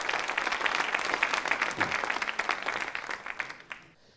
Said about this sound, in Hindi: तालियां बजाइए इन सभी के लिए जोरदार तरीके से